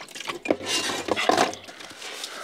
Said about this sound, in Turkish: bulaşıklarımı da hemen şöyle bir yıkayayım